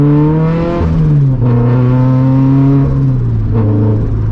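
A 330 hp turbocharged Scion FR-S on a high-boost tune accelerates hard, its engine note loud and close as it climbs through gears with short dips at each shift, revving steadily throughout.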